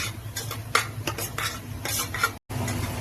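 Mutton is stirred and fried in masala, a spoon scraping the pan in repeated strokes over a steady sizzle, close up and without talk.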